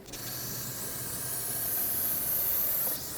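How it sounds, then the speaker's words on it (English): Brake parts cleaner sprayed from an aerosol can onto a front brake caliper of a 2015-2020 Ford F-150, one steady close hiss lasting about three seconds. "Rinse any brake fluid with brake parts cleaner."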